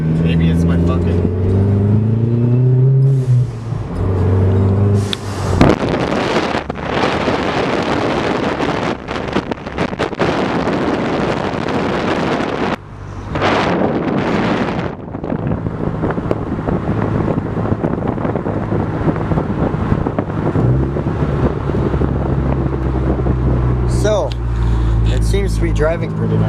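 A lowered, slammed daily-driver car on the road, heard from inside as steady engine and road rumble with heavy wind buffeting and louder surges, and voices talking at times.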